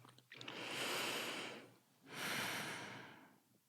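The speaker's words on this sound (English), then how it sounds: "Just breathing for a moment." Two slow, deep breaths close to the microphone, each a long airy inhale-exhale swell lasting over a second, with a brief pause between, quiet and intimate in a calm podcast setting.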